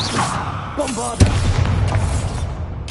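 A Bombarda spell blast goes off in Hogwarts Legacy on PS5, one sharp booming burst midway through that decays into rumbling debris, with a voice casting the spell just before it.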